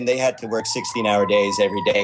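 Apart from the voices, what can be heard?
emergency vehicle siren passing in downtown Los Angeles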